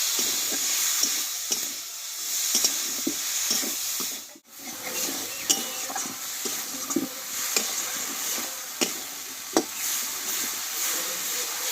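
Spice masala with tomato fries in a pan for jackfruit curry, a steady loud sizzle and hiss running throughout, broken by frequent close scrapes and taps of a spatula stirring, with one brief dip partway through.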